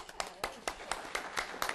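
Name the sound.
audience applause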